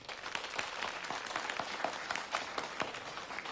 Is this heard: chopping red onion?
no